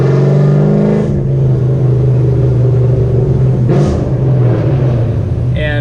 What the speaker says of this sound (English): I got a 2010 Camaro SS, full bolt-on, so just headers